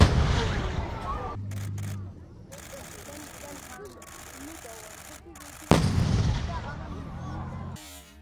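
Heavy artillery firing 43 kg shells at a Danish military open day on a heath: deep, booming blasts rolling out across open ground, with a sharp loud report late in the clip and voices talking throughout.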